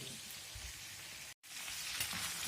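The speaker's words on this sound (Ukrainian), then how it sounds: "Ребра в нас продовжуються жарити." Pork ribs frying for braised sauerkraut, a soft, even sizzle like light rain, steady apart from a brief silent gap.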